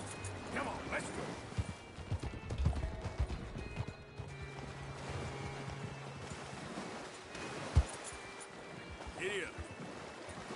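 Horse hooves clip-clop in Red Dead Redemption 2, an irregular, fairly faint patter with a short whinny near the end, under a voice urging the horse on.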